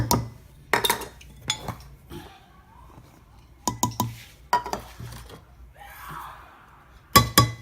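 Flour, salt, rosemary and thyme being mixed in a bowl for beer batter, with a handful of sharp clinks and scrapes of a utensil against the bowl in bursts separated by quieter stretches.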